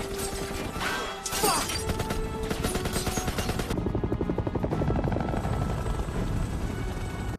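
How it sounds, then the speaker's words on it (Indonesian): A film helicopter's rotor thumps in a fast, steady rhythm, loud and close, as it fires on a prison ship, mixed with crashing impacts and bursts of gunfire. "Helikopter yang muncul langsung melakukan tembakan."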